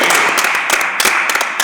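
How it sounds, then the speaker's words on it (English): A crowd applauds in a dense, continuous wash of clapping, fairly loud and close, with slight surges in intensity and no talking over it. "Give him a round of applause."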